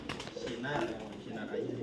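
A caged dove coos in soft, rolling notes close by, overlapping with people talking.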